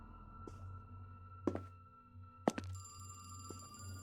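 A telephone rings in a street phone booth inside a horror video game, a quiet, sparse electronic tone with a few sharp thunk-like clicks spaced about a second apart, heard alone.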